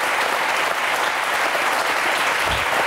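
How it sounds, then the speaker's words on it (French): A studio audience breaks into dense, loud applause for a guest author, a continuous wash of many clapping hands filling the whole stretch without any speech. "Vous pouvez l'applaudir"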